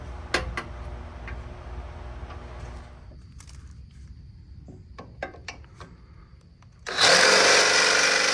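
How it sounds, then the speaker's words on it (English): A power drill whirs steadily boring holes in a garden tractor's metal, pauses amid a few sharp ticks and clicks, then starts again loud and close. "Drilling holes in the tractor."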